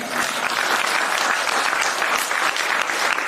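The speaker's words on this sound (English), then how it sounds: "You could clap for yourself on that one." Steady, loud applause from a crowd, dense clapping sustained throughout without pause or voices standing out.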